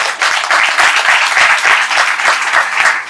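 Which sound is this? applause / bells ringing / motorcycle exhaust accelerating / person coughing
applause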